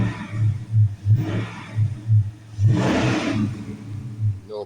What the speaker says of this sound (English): Let's just rev it up and see.